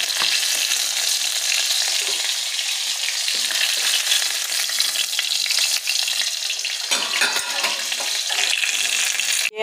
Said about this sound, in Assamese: মাছ ভজা তেলতে মই আলু কিপিচ ভাজি ল'ম।